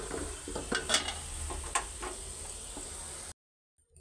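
Rice for pulao frying in oil in a pot and being stirred, a continuous sizzle with a few sharp scraping and clinking strokes, ending abruptly in silence.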